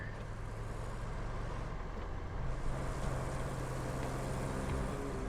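Tractor engine idling in the construction game Roadcraft, a steady low diesel rumble with a constant drone that holds throughout, close and moderately loud, with no talking.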